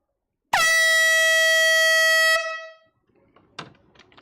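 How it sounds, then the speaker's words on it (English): A single air horn blares loud and close at an auction-style vinyl record sale, holding a steady blast for about two seconds, then cutting off into faint room sounds and brief voices. "I'm about to blow this air horn."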